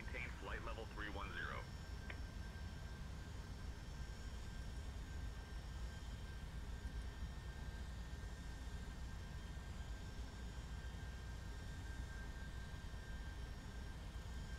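Steady broadband jet roar from a FedEx Boeing 757-200 in flight, rendered in the X-Plane 12 simulator, a constant cockpit engine drone lasting throughout, with a brief chirpy radio-like burst near the start.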